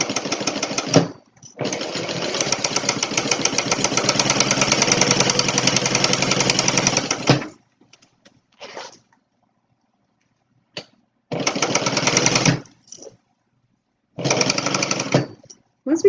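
Sewing machine basting a seam on a Stella Weekender bag, running in one long steady burst of about six seconds, followed by two shorter bursts with quiet pauses between.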